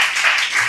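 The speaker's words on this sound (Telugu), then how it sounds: "చప్పట్లు కొట్టండి." Brief burst of a church congregation clapping hands, dense overlapping claps lasting under a second.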